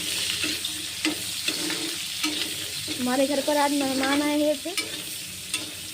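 Food fries and is stirred in an iron kadhai with asafoetida, a steady close sizzle broken by scraping strokes, while someone talks over it.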